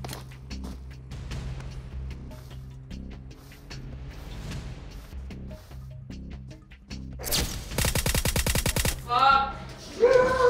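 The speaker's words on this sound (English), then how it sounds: "Pull the trigger already, Tai Chi." Gunfire in PUBG Mobile during an esports match, starting as faint scattered shots under ambient game noise, then a loud rapid automatic burst near the end.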